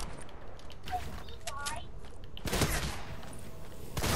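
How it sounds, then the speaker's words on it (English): Shotgun blasts in the Fortnite video game, a few sharp broadband bursts around mid-clip and at the end, under excited voices and game noise. "Mag shotgun."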